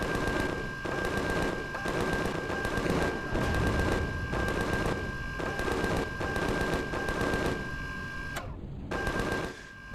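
Automated turrets in Empyrion blast away in every direction, a loud, relentless stream of rhythmic machine-gun bursts with a steady electronic tone underneath, no voices present.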